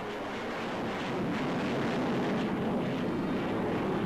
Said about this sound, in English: Now the Vulcan, another of Britain's newest bombers.